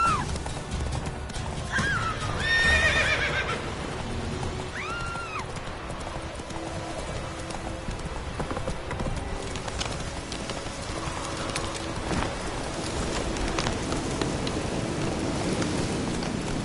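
Hooves clip-clop steadily and a horse whinnies twice early on in a PS4 video game, set against a constant wash of rain with a faint rumble of thunder.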